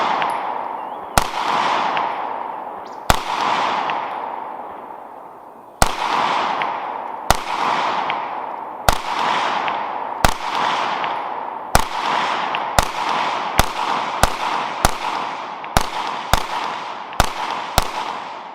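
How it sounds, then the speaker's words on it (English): Beretta 92FS pistol fired at 10 yards, about fourteen sharp, loud shots with ringing decay, spaced slowly at first and then coming faster in a quick rapid-fire string. "Let's go test out the Beretta 92FS at 10 yards and see what it does."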